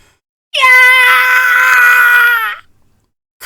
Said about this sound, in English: what is up with all of these screams?